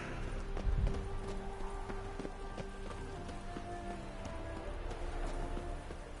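Horse hooves clip-clopping in The Witcher video game, a steady run of hoofbeats over a low game ambience with faint tonal background, moderately quiet and without speech.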